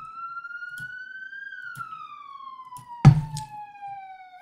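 Police car sirens in a horror video game wail with a slowly rising then falling tone, fairly loud and continuous, broken by a single dull thunk near the end.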